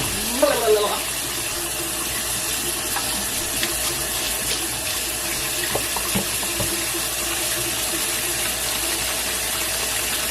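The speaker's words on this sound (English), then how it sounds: "Get the hot water running" Hot water gushes steadily from a kitchen tap into a sink while a whole chicken is prepared for an Instant Pot. The flow is a continuous hiss with a few clinks and brief voice sounds over it.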